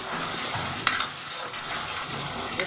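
Oil sizzles steadily as spices and tomato fry in a pan, with a few sharp scrapes of a spoon stirring through, close by and with no talking.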